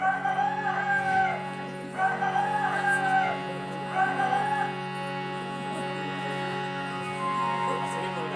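A voice imitates a rooster crowing during a religious storytelling event, giving three short crow-like calls over a steady sustained musical drone.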